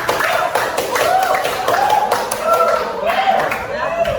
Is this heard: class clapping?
yes